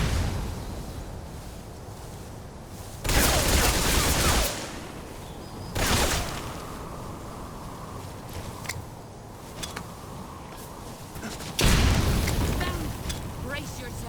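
Grenade blasts and gunfire from a video game boss fight come as several loud broadband bursts, each lasting about a second, over a constant noisy battle background, with scattered smaller impacts between them.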